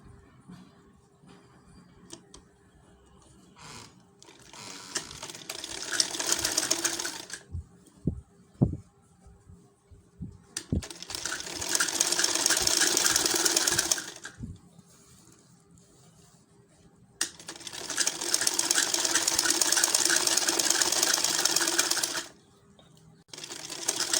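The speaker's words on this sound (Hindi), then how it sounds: "एक एक पैर की सिलाई लगाऊंगी।" A sewing machine runs up the leg seams of a school uniform in two long, steady bursts of fast stitching, preceded by scattered clicks and taps as the fabric is positioned.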